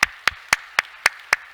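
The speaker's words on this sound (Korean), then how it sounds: "우리 박수로 한번 환영하겠습니다" Church congregation clapping in welcome for a visiting seminary preaching professor, heard as six sharp, evenly spaced claps in a slow steady rhythm, close and moderately loud with no voices.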